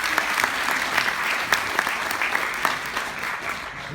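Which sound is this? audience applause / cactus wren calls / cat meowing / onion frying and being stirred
audience applause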